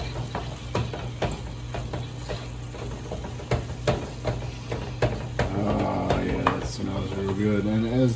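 Meat browning in a pan with chili peppers, frying with a steady sizzle while a utensil scrapes and stirs in repeated sharp clicks, growing busier toward the end; faint voice in the background.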